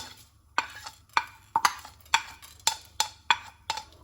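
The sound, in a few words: whole spices being dry-roasted and stirred on a griddle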